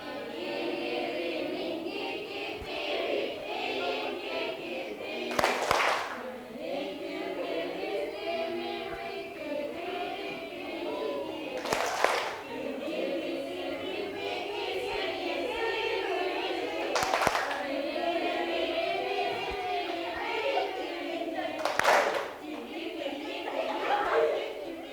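A group of schoolchildren in a classroom claps hands together in four sharp, evenly spaced bursts while they sing and chatter between the claps.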